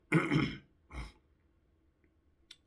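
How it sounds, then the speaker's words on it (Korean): A man coughs and clears his throat, a rough double burst followed by a shorter second cough, close and fairly quiet, then near silence with a faint click. "기침이 자꾸 나는데"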